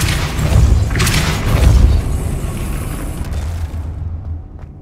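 Depulso force spell blast in Hogwarts Legacy, a deep booming whoosh with heavy low rumble that swells and then decays over a few seconds, heard alone without talk.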